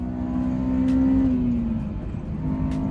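A Honda S2000 with newly replaced axles cruises in third gear, its engine whirring in a smooth, steady hum. A clear tone climbs gently and then eases off while the car drives on.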